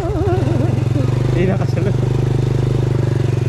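Honda 100 motorcycle engine idling or running on a road, a loud, close, steady low putter that continues throughout while someone talks over it.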